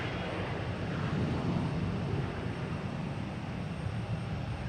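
A Delta Boeing 737-800 arrives at Boston Logan Airport, heard as a steady distant jet engine roar that holds at an even level throughout, with no talking.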